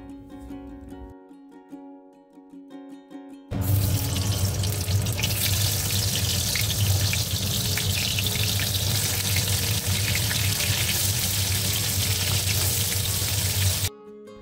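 Sliced pointed gourd frying in oil, a steady loud sizzle that starts abruptly after a quiet moment and continues unbroken before cutting off.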